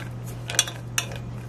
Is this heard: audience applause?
no